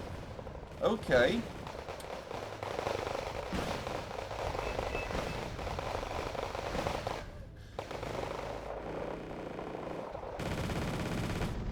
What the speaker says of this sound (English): So they are sniping them with an RPK.